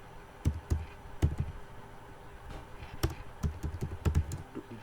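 Code being typed on a computer keyboard for a Python text editor, with close, crisp key clicks arriving in uneven bursts and short pauses over a quiet room background.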